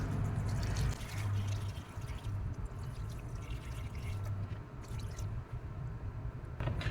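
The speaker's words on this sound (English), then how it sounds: "Let's see how much water the factory front driver's liner can hold." Water pours steadily and close into a factory front driver's floor liner from a 2024 Subaru Crosstrek, a continuous splashing gush that runs for the whole stretch with no talk.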